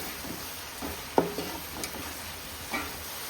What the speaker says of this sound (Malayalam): നമുക്ക് ഇത് മൊത്തത്തിലൊന്ന് ഇതാക്കി വശക്കി എടുക്കാം.